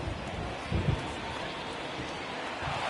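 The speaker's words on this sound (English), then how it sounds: "the rain starting to intensify here. It's coming down a little heavier now." Steady rain pouring down on a baseball field in MLB The Show 19, a dense even hiss of falling water with a brief louder patch, no voices.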